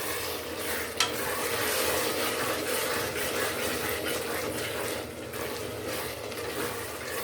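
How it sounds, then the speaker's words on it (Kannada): Hyacinth beans, potato and tomato fry in butter in a pan, a continuous sizzle under steady stirring with a sharp scrape near the start, close and unbroken. "ಅವರೆಕಾಳು ಮತ್ತು ಆಲೂಗೆಡ್ಡೆ ಹಾಗೂ ಟೊಮೆಟೊ ಚೆನ್ನಾಗಿ ಬೆಂದು ಸ್ಮ್ಯಾಶ್ ಆಗಬೇಕು, ಅಲ್ಲಿವರೆಗೆ ಹುರಿತಾ ಬನ್ನಿ"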